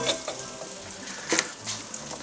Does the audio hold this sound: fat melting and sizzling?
yes